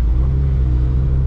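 A Honda Civic EF engine drones low and steady as the car creeps slowly along a slushy winter road, a close, loud, continuous rumble with no speech.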